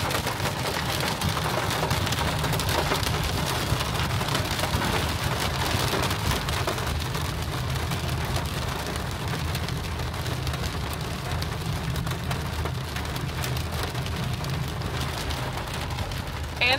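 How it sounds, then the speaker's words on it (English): Hail falling in Rocky Mountain National Park, a dense continuous patter and crackle of icy pellets striking surfaces all around, steady and moderately loud throughout. "this is now hail"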